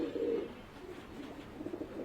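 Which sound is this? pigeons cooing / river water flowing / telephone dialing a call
pigeons cooing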